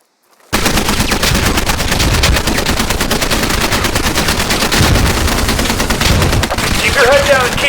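Dense, continuous automatic gunfire in a squad-based military shooter game's live fire exercise, loud and close, sustained rapid bursts throughout with a faint voice near the end.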